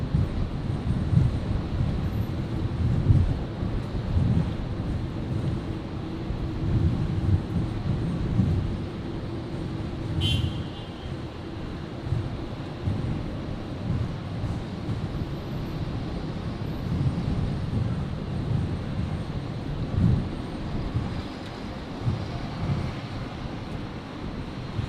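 A Boeing 737 airliner arriving from Queenstown at Brisbane International Airport, a steady low distant engine roar rumbling throughout for about 25 seconds, with no voices.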